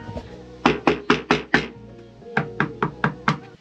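Knuckles tap on the cab of a Unimog truck under construction, two quick runs of about five sharp, hollow knocks each, with a short pause between, close and clear with no talk.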